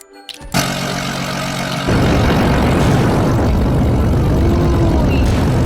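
In the video game Build a Plane, an airplane flies fast: a click, then a loud continuous propeller engine drone that steps up to a fuller roar partway through and holds steady.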